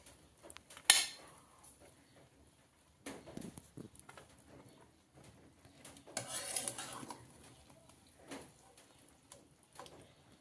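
Aloo dum biryani being served into a dish, a sharp clink of a spoon or pot at first, then sparse scraping and soft clattering of serving, quiet and close.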